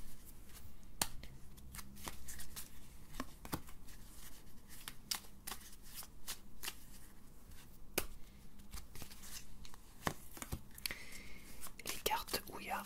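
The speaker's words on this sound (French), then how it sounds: "Je vais tirer 4 cartes et je vais les mélanger avec toi-même." Tarot cards being shuffled close up in a quiet room, a run of crisp snapping riffles and soft slides repeating irregularly, with faint whispering in between.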